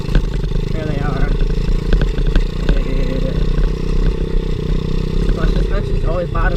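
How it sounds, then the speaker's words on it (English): Small pit bike sized for children, ridden by an adult over bumpy terrain, its engine buzzing steadily with rattling clatter and occasional knocks as the suspension bottoms out, while a voice talks over it. "My suspension's always bottoming out because this bike is made for like 7-year-olds."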